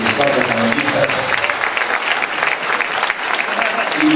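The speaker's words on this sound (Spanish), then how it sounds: "creo que el aplauso muy fuerte" Sustained, loud applause fills the hall at a panel on public education. The dense clapping carries on steadily from start to end, with a voice faintly audible underneath.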